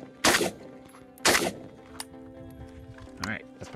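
A ZPAP AK rifle in 5.56 fed from a PSA AK101 magazine fires two loud, sharp shots about a second apart, followed by fainter mechanical clicks and a muffled thump.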